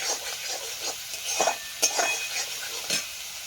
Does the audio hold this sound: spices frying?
yes